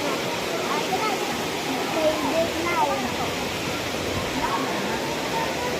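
A river rushes below a bridge in a continuous broadband wash of flowing water, steady and fairly close, with occasional faint voices drifting over the stream noise.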